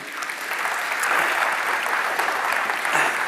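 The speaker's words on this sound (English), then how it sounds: "give Harrison a round of applause, please." Continuous crowd applause at a large tech keynote, a dense steady wash of clapping from a big audience with no pause.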